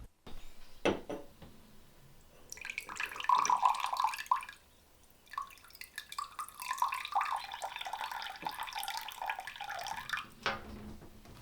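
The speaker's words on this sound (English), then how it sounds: "you can dispense your water using this little tap gadget." Water trickles from a large drinking-water jug through a small tap dispenser inside an off-grid tiny house in the woods, a soft, uneven pouring stream with dripping, fairly close and quiet.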